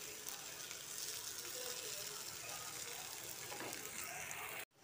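Slices of elephant foot yam fry in a pan, a continuous, faint, hissing sizzle that holds steady before cutting off abruptly.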